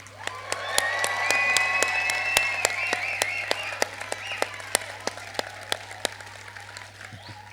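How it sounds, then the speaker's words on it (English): A graduation audience claps and cheers together, a steady wash of applause punctuated by sharp, close individual claps, with voices rising through it and a low electrical hum underneath throughout. "A huge cheer and a round of applause."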